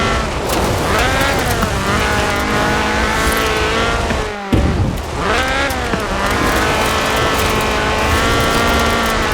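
A Ford RS 1800 rally car in Forza Horizon 4 drives close and loud, its engine revving up through the gears with rising pitch, then cutting briefly at a shift before climbing again, with no talk.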